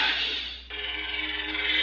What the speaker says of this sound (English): I don't know if you guys know blue lightsabers sound like this.